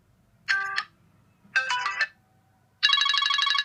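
A 2018 GooPhone X smartphone plays a ringtone through its speaker: two short electronic chime phrases, then a longer, louder melodic burst, with faint background noise between them.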